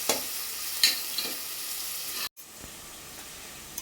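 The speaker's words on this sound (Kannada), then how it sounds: "ಲಾಸ್ಟ್ ಎಣ್ಣೆ ಫ್ರೈ ಆಗೋದು ಬ್ರೌನ್ ಕಲರ್ ಬರೋದು." A steady, even sizzle of food frying in oil until brown while mutton pulimunchi is cooked, holding level with a few small clicks and a brief drop-out partway through before the hiss resumes.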